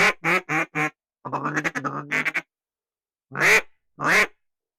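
Ducks quack near a duck blind in several loud, close bursts, first a quick series of four calls, then a longer chattering run, and after a pause two more separate quacks, with no talk.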